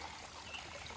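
A stream trickles steadily at an Appalachian Trail water source between Bearfence and Thornton Gap, an even, soft wash of running water with no breaks.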